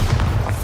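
Bombarda spell explosion in the video game Hogwarts Legacy, a loud, deep booming blast with a rumbling low end that fills the brief moment.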